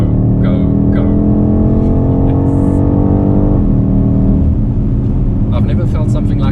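BMW X5 M Competition SUV in M mode, engine droning steadily and loud up close with a rising rumble, then a shift dip near the middle; a voice speaks over the engine toward the end.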